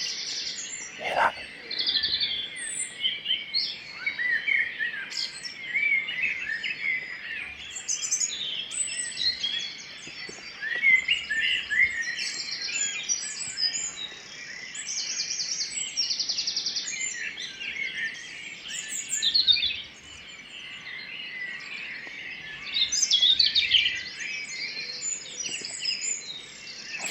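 Blackbird song fills the scene, several birds chirping and whistling at once in a steady outdoor chorus, with bright, liquid, varied phrases repeating throughout.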